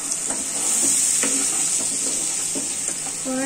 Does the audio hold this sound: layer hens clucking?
no